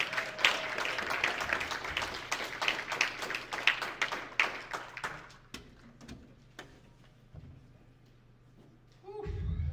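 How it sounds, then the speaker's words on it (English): An audience in Inuvik claps for a performer, a dense crackle of hands for about five seconds that thins into scattered claps and then fades near the end. "Let's give him a big round of applause, please."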